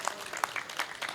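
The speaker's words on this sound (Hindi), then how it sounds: "आप लोग जोरदार तालियां बजाते जाइए, बजाते जाइए, बजाते जाइए" Scattered applause from a literary festival audience at a satire and poetry performance: a handful of separate, fairly distinct claps spread across a brief moment, with light crowd noise between them.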